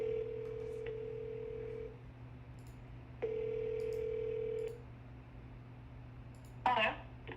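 A phone call rings out with two long, steady electronic ring tones separated by a pause, heard through the line at moderate volume, followed by a brief clatter.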